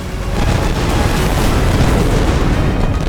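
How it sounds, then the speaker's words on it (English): Naval cannon fire in the Battle of Trafalgar, a British warship's guns sweeping an enemy deck with grape shot, heard as a loud, dense, continuous roar of booming blasts that fills the whole stretch. "a British ship emerges through the smoke to sweep their deck with grape shot"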